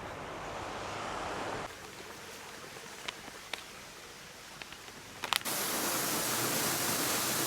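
Steady surf and waves washing on a beach at Shanklin on the Isle of Wight, a broad continuous rush with some wind buffeting the microphone and a few faint clicks, swelling louder near the end.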